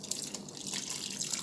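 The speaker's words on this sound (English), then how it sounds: "Here I'm gonna add a little more water" Water pours into a pot of Jamaican-style chicken soup with pumpkin and dumplings, a steady close splashing and trickling with no voices over it.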